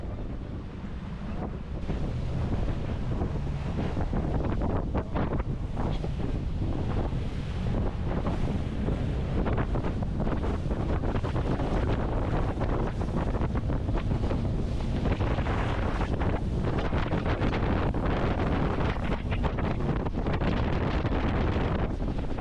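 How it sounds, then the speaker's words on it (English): Strong wind roars steadily across a microphone on open water during a predator fishing competition, a constant loud buffeting rumble with gusts and water slap throughout, no voices. "A lot of wind."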